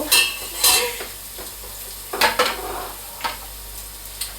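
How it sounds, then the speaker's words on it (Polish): A plastic spoon stirs hot olive oil in a pan, making several bright scraping clatters and crackles in irregular bursts over a quiet hiss, close by, with no speech. "Zamieszam ją plastikową łyżką."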